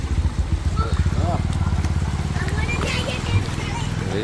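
A motorcycle putters through a flooded street in Surat after heavy rain, its engine pulsing close by with water splashing, while people talk over it.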